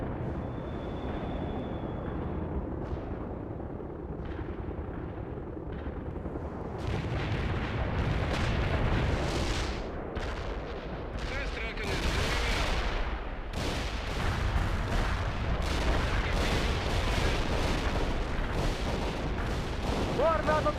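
Heavy artillery barrages boom and rumble throughout a World in Conflict battle, starting as a low steady roar and building into loud, dense blasts and cracks after several seconds, with a voice briefly speaking early on.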